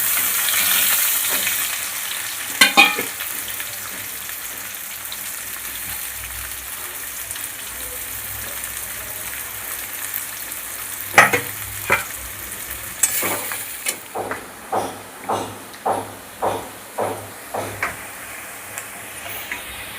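Garlic and onions fry in hot oil for a katla fish curry, a steady broadband sizzle running throughout, with a louder burst near the middle as onions hit the pan, then a regular series of scraping stirs toward the end, close and without talk.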